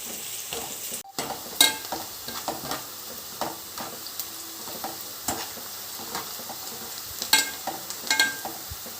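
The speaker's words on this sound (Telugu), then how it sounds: "బ్రౌన్గా వచ్చేంత వరకు డీప్ ఫ్రై చేస్తూ ఉండాలి." Sliced onions deep fry in hot oil for chicken biryani, a continuous bubbling sizzle with repeated sharp clinks and scrapes of a spoon stirring in the pot.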